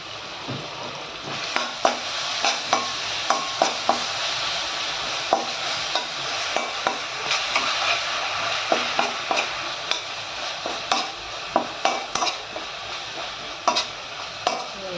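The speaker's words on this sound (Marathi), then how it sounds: "हे चांगलं आता आपल्याला परतून घ्यायचं" Ground spice paste sautéing in a pan for vada pav filling, a steady sizzle broken by regular scraping strokes of a spoon or spatula against the pan, close and continuous with no talking.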